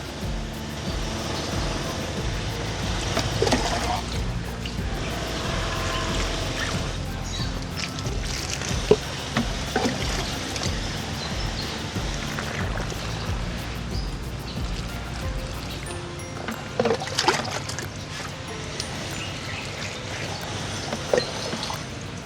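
Water is poured steadily onto cocopeat, about 20 liters soaking the coir substrate, giving a continuous rushing, trickling wash with a few louder splashes and bumps along the way.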